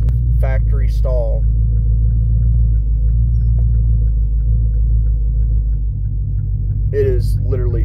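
A truck fitted with a stage 4 cam and factory stall converter rumbles steadily at low pitch, a loud continuous throbbing drone close up, with a person briefly speaking over it at the start and end.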